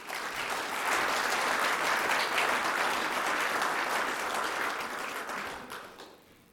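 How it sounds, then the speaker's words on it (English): Audience applause welcoming a speaker at a formal lecture event, a dense, lively wash of clapping from many hands that swells, holds steadily, then fades away over the final seconds. "So everyone, a round of applause for Johnny Alvis."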